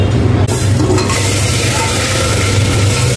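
Ingredients frying in a little oil in a pressure cooker on a gas stove, stirred with a utensil; steady close sizzling hiss with scraping stir sounds runs throughout, no talk.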